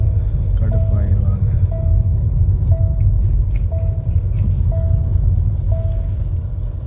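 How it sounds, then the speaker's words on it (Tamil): Low engine rumble of a car driving, steady throughout, with a repeating short electronic beep sounding about once per second. "வண்டியை கொஞ்சம் தூரமாக எடுத்துகிட்டு போய்க்கிறேன்."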